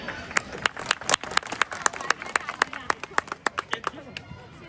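An audience at a Karma Jayanti community gathering in Lakhnadon claps in sharp, scattered bursts that thin out toward the end, fairly close and moderately loud.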